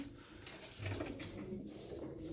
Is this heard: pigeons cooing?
yes